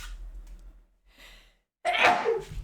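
After some quiet breathing, a single sharp sneeze bursts out near the end, close and loud.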